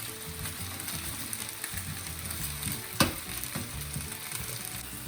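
Biryani masala being stirred into a frying pan, with a steady sizzle and frying crackle under repeated scraping and stirring strokes, plus one sharp clink of a utensil against the pan partway through.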